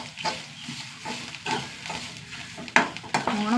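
Grated coconut roasting in a pan for Kerala-style sambar, stirred at intervals with a spoon; soft steady sizzle under repeated scraping strokes, close by, with a sharper clink near the end.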